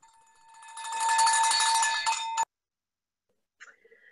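A handheld bell rung at a Rotary club board installation meeting gives a loud, bright, sustained ringing for about two seconds that stops abruptly, followed by a faint short tone later on.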